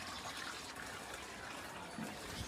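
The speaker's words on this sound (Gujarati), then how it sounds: "અત્યારે અહીંયા પાણી ભરવાનું કામ ચાલુ છે" Water pours steadily into a container being filled, a close, continuous rushing gush with no voices.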